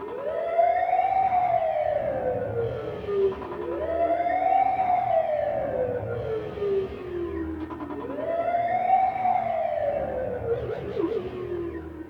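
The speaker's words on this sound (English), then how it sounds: "You got like sirens." A Waldorf Quantum synthesizer plays a siren patch, three slow rising-and-falling wails that sweep up and glide down in a steady repeating cycle, loud and sustained.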